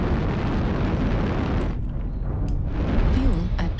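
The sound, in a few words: incoming missile explosion in MechWarrior Online video game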